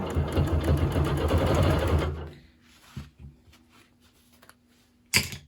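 A sewing machine stitches rapidly during free motion quilting, a loud steady whirring run that stops after about two seconds, followed by quiet, a few light clicks and a short final burst of stitching near the end.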